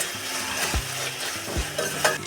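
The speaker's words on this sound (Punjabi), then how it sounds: "ਹੁਣ ਅਸੀਂ ਟਮਾਟਰ ਨੂੰ ਉਨੀ ਦੇਰ ਤੱਕ ਭੁੰਨਾਂਗੇ ਜਿੰਨੀ ਦੇਰ ਤੱਕ ਇਹ ਤੇਲ ਨਹੀਂ ਛੱਡ ਦਿੰਦਾ" Chopped tomatoes frying in oil in a pan for an aloo gobi curry, with a steady soft sizzle and two sharp scrapes of a spoon stirring, close and alone.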